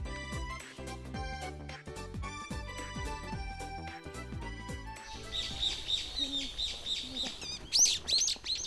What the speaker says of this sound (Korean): 어, 새소리 녹음이 잘 됐다.